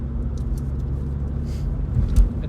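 A car fitted with a new, untuned turbo gives off a steady low engine rumble that holds fairly even throughout, with a brief louder thump near the end.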